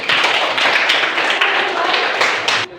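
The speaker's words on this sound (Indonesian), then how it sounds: "tepuk tangan untuk Cece" A crowd claps in a dense burst of applause that carries steadily to the end.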